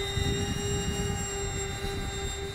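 An RC Avios Albatross HU-16 flying boat model, in US Coast Guard livery, flies at half throttle, its steady electric motor drone and whine holding constant at moderate distance with no talk.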